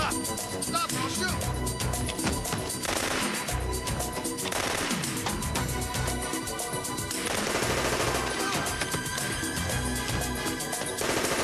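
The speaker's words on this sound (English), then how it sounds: "Stop! Stop, I'll shoot!" Rapid gunfire during a TV drama action scene, dense continuous bursts and crashes over a busy soundtrack, with voices mixed in.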